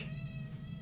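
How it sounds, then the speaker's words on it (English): A cat gives one short, faint meow, close and quiet, with no talking over it. "Kitty."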